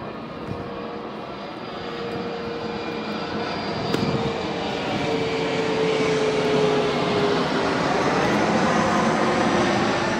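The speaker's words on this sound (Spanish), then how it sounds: "El sonido de un avión" A propeller airplane drones overhead near Caló Blanc on Menorca, a steady, fairly loud engine hum that slowly grows over ten seconds, heard alone outdoors.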